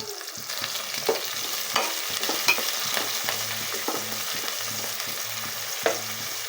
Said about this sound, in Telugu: ఇది మనం ఇప్పుడు ఉల్లిపాయ బాగా వేపుకోవాలండి.